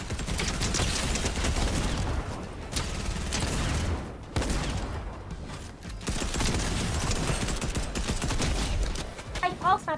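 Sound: gunfire in a video game

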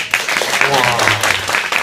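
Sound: audience applause after a lecture

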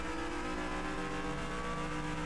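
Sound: race car driving and accelerating

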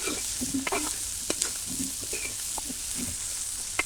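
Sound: chopped onion frying in a pan

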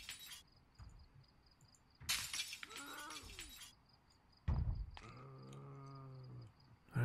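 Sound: glass being removed from a window in the video game Project Zomboid

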